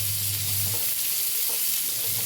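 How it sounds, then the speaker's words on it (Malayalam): Close, continuous sizzling of shallots frying in oil, with faint stirring scrapes through it. "നമ്മൾ ചെറിയ ഉള്ളിയിലേക്ക് ഇട്ട് കൊടുക്കുക കേട്ടോ ഒന്ന് ഇളക്കി കൊടുത്ത്"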